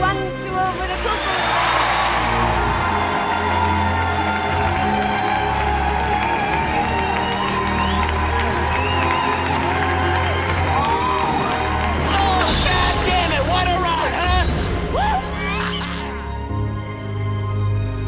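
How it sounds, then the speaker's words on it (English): Theatre audience applauding and cheering, a dense loud wash of clapping with whoops and shouts that swells toward the end, carrying over music or background tones, no speech. "Extended round of applause for Coolidge member, staff member, Ann Continelli, who put that together for us."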